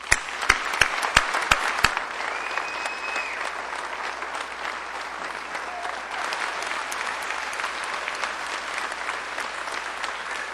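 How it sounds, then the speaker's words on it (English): A commencement audience at Dakota State University applauds the graduates. Several sharp, separate claps open the burst, then it builds into sustained, even applause from a large crowd in a big hall. "I invite the parents, families, and friends, members of the faculty, and honored guests to join me once more in applauding your success."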